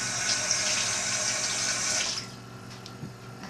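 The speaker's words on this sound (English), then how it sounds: "Now I have to wash my hand again." Tap water runs steadily into a kitchen sink as hands are rinsed during salad preparation, a close hissing splash that stops after about two seconds, leaving faint drips and small clatters.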